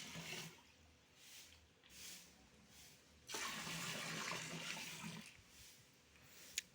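Liquid poured into water for a catfish-rearing setup, a steady rushing splash lasting about two seconds after quieter intermittent watery sounds, fairly close and alone.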